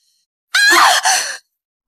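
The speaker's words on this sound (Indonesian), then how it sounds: "Ada yang menjerit." A single short cry of distress from one person, a voiced shriek just under a second long that breaks briefly and trails off, close and loud against silence.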